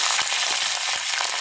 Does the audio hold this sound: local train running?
no